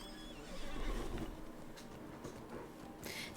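Horse in the fantasy game Lord of the Rings Online, giving a clear whinny near the start with some hoof clops following, close and moderately loud.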